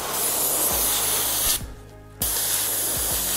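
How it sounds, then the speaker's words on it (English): Badger 200 airbrush spraying a steady loud close hiss that cuts out for about half a second, then resumes, with a low compressor pulse thumping rhythmically underneath. "So just testing the airbrush."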